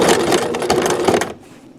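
A domestic sewing machine stitching fabric in a fast, even run of needle clatter, close and loud, stopping abruptly near the end.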